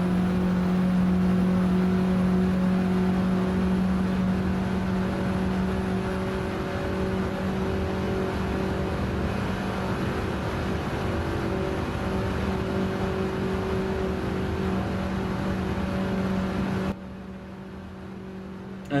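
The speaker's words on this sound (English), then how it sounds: "I'm going to go silent right until we get to about where the crest is up in front, so you can hear a bit of the car" A VW Golf drives a fast lap of the Nordschleife, heard from inside as a sustained droning engine note with steady whine and road roar, fairly loud, shifting slightly in pitch and dropping in level toward the end, with no talking.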